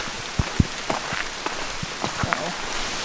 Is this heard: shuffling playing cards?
no